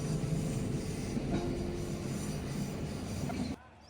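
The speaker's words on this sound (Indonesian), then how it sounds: "Dentuman roda besi bersahutan dengan gema dari struktur jembatan, menciptakan irama yang khas" The KA Serayu train rolls across a bridge with its iron wheels rumbling and clattering loudly and continuously, echoing off the bridge structure, before cutting off abruptly.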